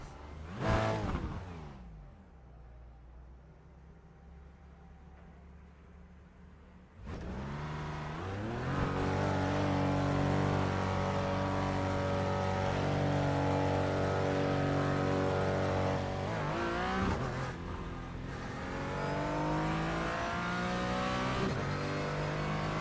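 Porsche Cayman GT4 engine in the iRacing sim: a quiet idle, then a sharp jump into sustained loud revving with rising and falling pitch as the car accelerates and shifts, running steadily to the end.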